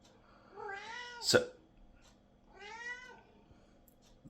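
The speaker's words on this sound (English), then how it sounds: "cat's hungry." A hungry cat meows twice, close and clear, each call a drawn-out rising-and-falling cry about two seconds apart, with a sharp knock between them and a brief spoken word from a man.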